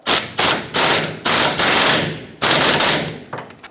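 Air impact wrench driving a 13mm fuel tank strap mounting bolt on a 1999-2007 Ford F-350 7.3L Powerstroke, loud close bursts of rattling hammering in about six short pulses with brief gaps between them.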